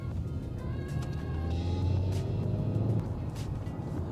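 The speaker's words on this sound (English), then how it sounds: "I'm going to go down to second gear and try and accelerate" A 2023 Mazda CX-5 accelerating in second gear on an open road, its engine note a steady low drone with rising harmonic tones as revs climb, paired with constant road and tyre rumble inside the cabin.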